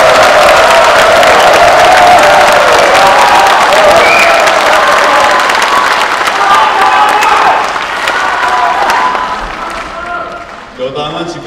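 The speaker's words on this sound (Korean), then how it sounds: "여러분 한번 뜨겁게 박수 한번." At a Korean party member rally, a large crowd gives loud applause and cheering for the party's floor leader Na Kyung-won, a heavy sustained roar of clapping with shouts and a voice over it, tapering before the speaker resumes.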